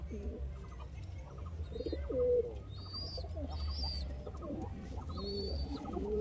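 Pigeons in a loft coo repeatedly in soft, rolling calls over a steady low hum, with a few brief chirps and faint background voices.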